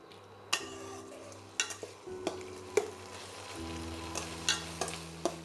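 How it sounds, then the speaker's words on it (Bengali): Pumpkin and grated coconut are stirred in a hot pan for kumror chechki, with a constant close sizzle and irregular scraping taps of the utensil against the pan and no talking. "নারকেলটাকে ভালো করে মিশিয়ে নেব।"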